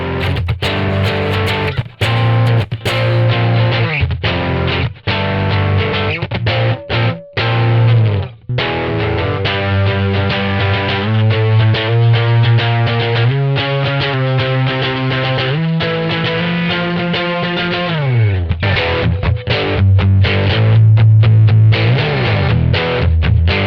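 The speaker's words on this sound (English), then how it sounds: "you can really get some really like authentic guitar tones just with a Colours Saturator without using any like IR plugins or extra" Electric guitar distorted through a HOFA Colour Saturator plugin with no IR loader, playing loud sustained riffs and chords with thick harmonic saturation, continuous and upfront across the whole passage.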